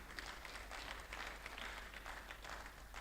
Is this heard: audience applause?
yes